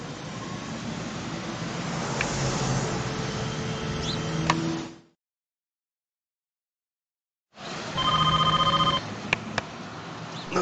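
A telephone rings in the Driver video game cutscene, electronic ringing bursts over a background hum, cutting to silence midway before more ringing tones return.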